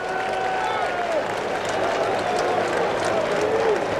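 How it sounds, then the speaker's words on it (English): Steady applause and murmuring from a large baseball stadium crowd during the 1986 World Series, a dense, continuous wash of clapping with whistles above it. "he gets a well-deserved round of applause for his gutsy playing on a bad leg"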